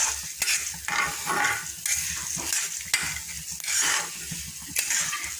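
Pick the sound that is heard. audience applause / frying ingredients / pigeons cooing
frying ingredients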